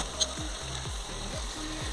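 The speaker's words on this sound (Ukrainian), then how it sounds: "Цибуля декілька хвилин пропарюється і перемішуємо, звичайно." Steady sizzling of onion frying in a pan, with periodic scraping strokes of a spoon stirring along the bottom, close and continuous.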